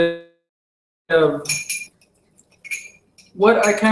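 A cup of Repashy Superfood mix stirred indoors, giving light clinks and scraping taps of a utensil against the cup in short bursts, with a person talking around them.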